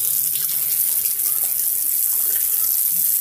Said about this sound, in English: So, time to wash my hands.